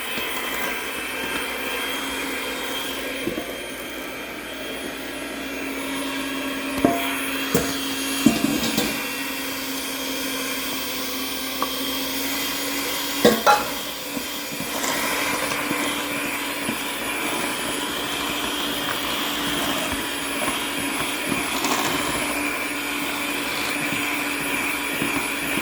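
Electric hand mixer whirring steadily through butter pecan cake batter, a constant motor hum with a few light clicks and bumps against the bowl, close and with no talking.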